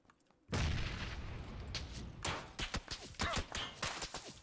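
Gunfire rings out in PUBG, a sudden sharp volley followed by a run of rapid distinct shots and bursts, loud and close.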